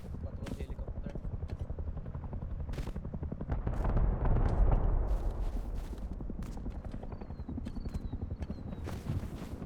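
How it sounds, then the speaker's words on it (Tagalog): A patrol helicopter in the Rust video game, its steady rotor thumping throughout with a swell in the middle, mixed with gunfire cracks and voices talking. "Patrol helicopter."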